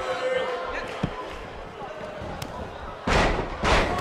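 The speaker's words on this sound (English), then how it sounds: "And she slams her back down." Wrestler body slam in the video game WWE 2K18 during a women's match, heavy thuds and a loud impact near the end, under game crowd noise and ongoing commentary.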